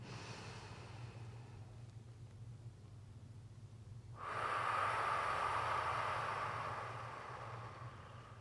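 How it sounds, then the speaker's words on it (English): A faint, slow breath is drawn in through the nose during a Pilates session, then a louder, longer breathy exhale leaves through the mouth, close and alone in a quiet room. "taking a couple of deep breaths in through the nose. And exhale through the mouth."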